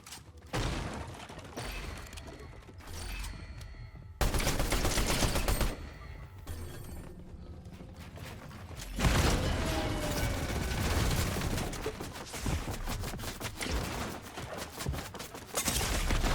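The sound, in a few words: gunfire in the video game Fortnite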